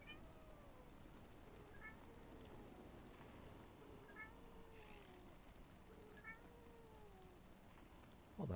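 A small cat-duck character in a survival video game gives faint, high mews several times, spread out over steady background game ambience with a little talk.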